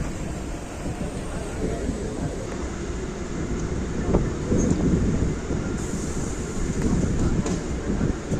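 A 12-car Chengalpattu–Gummidipundi local electric train running near Chennai, heard from inside as a loud continuous rumble with rattling coach noise and faint rail clatter throughout.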